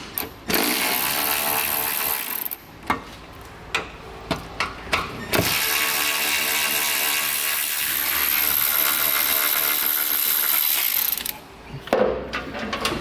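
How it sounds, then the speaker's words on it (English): A 13 mm ratchet removing bolts from a 2016 Volkswagen Jetta while a hidden trailer hitch is installed, giving loud, rapid continuous ratcheting broken by brief pauses and a few separate clicks. "The 13 millimeter is gonna be the ticket. So let's go ahead and remove those"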